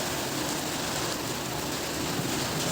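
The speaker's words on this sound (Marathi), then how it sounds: "अचानकच खूप जोरात पाऊस सुरू झालेला आहे." Heavy rain pouring down outdoors near a river in Nanded City, a steady dense hiss of falling water throughout with no voices.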